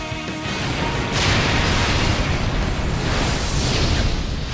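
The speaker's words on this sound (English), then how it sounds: "That explosion hit him in the back." An explosion in the video game Sonic '06 booms in a loud, sustained burst that rumbles and crackles across the whole span, with a sharper surge early on.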